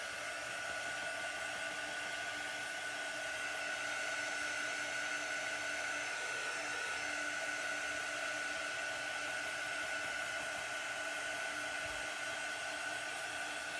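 A drying tool blows air steadily onto a chalk transfer on a fall welcome sign board, a constant close whirring hum with a high whine that holds unbroken throughout.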